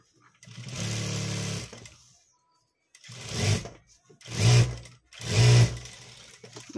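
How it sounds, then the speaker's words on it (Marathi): Sewing machine stitching the sleeve of a blouse, whirring in three close bursts with short pauses between, the first burst longer and steadier. "तर मध्यभागी ठेवायचे आणि जिथून टक्स घेतलेला आहे ना आपण ह्याला, तर ह्या प्रकारे स्टिच करून घेऊया."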